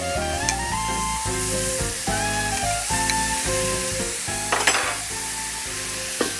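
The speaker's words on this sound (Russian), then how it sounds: "Я возвращаю мясо на сковородку, оно моментально зашипело" Meat returned to a hot frying pan sizzles loudly and continuously as broth is poured over it over an open fire. The steady crackling hiss sits over a sustained tonal background.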